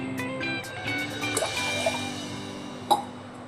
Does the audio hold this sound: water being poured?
yes